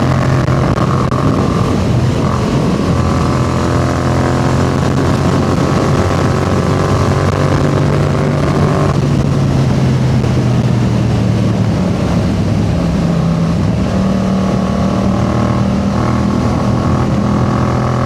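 A Yamaha MT-07 motorcycle, a 2025 model with a quickshifter, rides steadily with a loud, continuous engine drone, its pitch sliding up and down through smooth gear changes and no talking.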